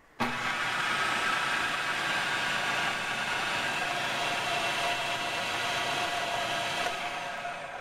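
A food processor blends rice vinegar, starting abruptly with a loud, steady motor whir that holds evenly for several seconds.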